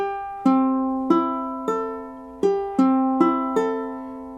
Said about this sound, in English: If you have tuned your ukulele, it should sound something like this